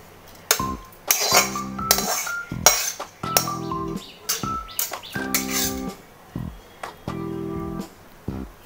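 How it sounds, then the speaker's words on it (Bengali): Moong dal goes into a pressure cooker in a series of bright metallic clinks and knocks, spaced clatter of utensils against the pot with quiet gaps between. "এবার আমি প্রেসার কুকারে ডালটা দিয়ে দিচ্ছি"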